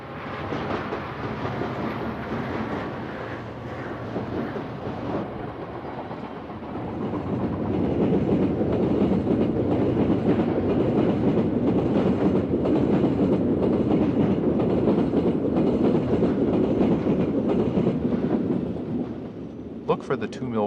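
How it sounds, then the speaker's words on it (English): A Santa Fe train runs past at Colton crossing, where a Union Pacific westbound City of Los Angeles train also passes, giving a loud rumbling roar with rhythmic wheel clatter that builds midway and holds steady close by. "we'll catch a UP westbound City of Los Angeles train after the Santa Fe train runs by"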